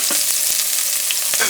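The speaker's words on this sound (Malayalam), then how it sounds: "അതിലേക്ക് ഞാൻ കുറച്ച് ഇഞ്ചിയും കുറച്ച് വെളുത്തുള്ളിയും കുറച്ച് പച്ചമുളകും അതും കൂടി ഇടുന്നുണ്ട്" Ginger, garlic and green chilli hiss and crackle in hot ghee in a pan for ghee rice, a steady close sizzle with a few brief spatters and stirring scrapes.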